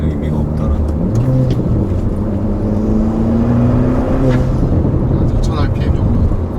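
A manual 2019 Hyundai Veloster 1.6T engine revs around 4,000 rpm, a loud continuous drone that rises in pitch, with someone talking over it.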